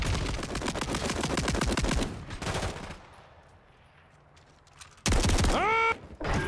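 Video game gunfire, with a long, loud automatic burst of rapid repeated shots, a quieter lull, then another heavy burst followed by sharp ringing report tails.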